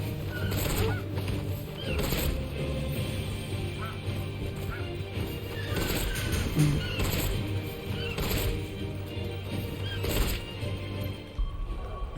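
Chocobo bird calls in the Final Fantasy XVI video game, heard as repeated honking, squawking cries at roughly regular intervals over a dense, continuous game soundtrack and ambience.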